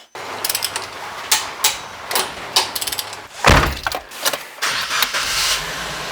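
A Suzuki Jimny on a test drive after a suspension lift, with engine and drivetrain noise under repeated mechanical clunks, rattles and ratcheting clicks, fairly loud and close throughout.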